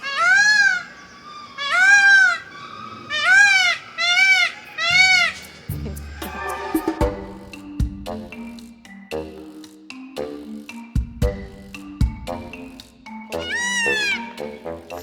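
Peacocks call in a Prague garden, a run of loud, piercing, repeated wailing cries in quick pulses, followed by more scattered calls mixed with thumps and background clatter.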